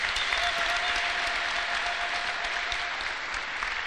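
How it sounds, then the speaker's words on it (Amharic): A church congregation claps loudly and continuously for the Lord during a prophet's service, a dense sustained burst of many hands with faint crowd murmur underneath and a brief tone running through. "እስቲ አጨብጭቡ ለጌታ"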